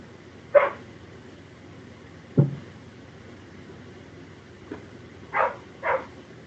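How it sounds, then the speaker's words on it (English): Dog barking outside a house, a few separate barks spaced out over several seconds, muffled and at a moderate distance, with quiet background between them. "Luna, I hear you out there barking."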